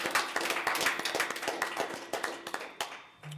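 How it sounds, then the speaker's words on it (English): At a school board meeting, attendees clap for the athletes: quiet, scattered handclaps in an irregular patter that thins out and stops after about three seconds. "let's give all of our athletes a round of applause for an excellent season."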